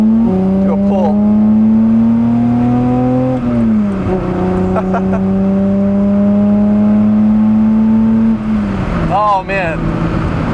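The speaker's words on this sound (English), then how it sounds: "Oh man, I love a good inline six." A Datsun 240Z inline-six pulls hard, its smooth rising rev whine held close and loud, dipping briefly at a gear change before climbing again and then backing off near the end.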